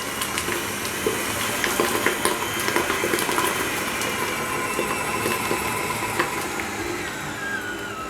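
Stand mixer whipping sugar fondant for a Prague cake, a steady continuous motor whir with liquid churning, running alone without talk throughout.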